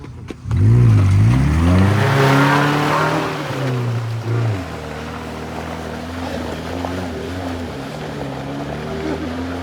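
An off-road car in an off-road race pulls away with a loud, revving engine that swells near the start and then fades as it drives off, leaving a lower rumble and wind noise.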